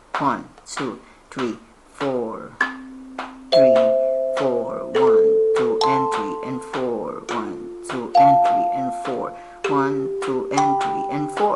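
A kalimba plays a rhythm drill of plucked, ringing metal tines in a steady beat, under a voice counting the beats aloud throughout.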